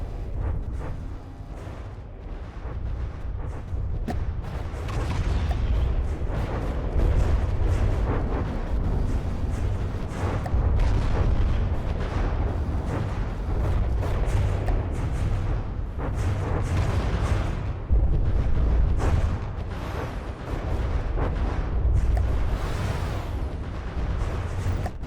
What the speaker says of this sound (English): we have indeed hit something with our railgun